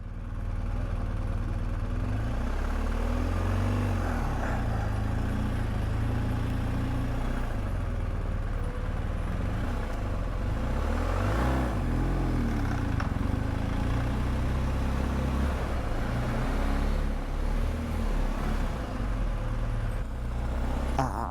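A BMW car pulling away uphill with hill start assist engaged, heard from inside as a steady, low engine drone with a continuous rumble throughout and no talk.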